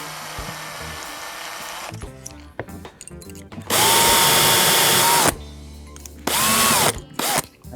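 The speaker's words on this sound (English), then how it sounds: "so now I can drill down there and push out everything" A power drill drilling into a doll's house fan light whirs in loud bursts, revving up and down, with clattering and scraping between runs.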